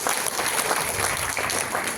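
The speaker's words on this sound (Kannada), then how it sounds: "ಅವ್ರಿಗೊಂದು ಜೋರಾದ ಚಪ್ಪಾಳೆ ಬರುತ್ತೆ" Loud, steady applause from a large audience at a birth anniversary celebration fills the hall for two seconds without a break.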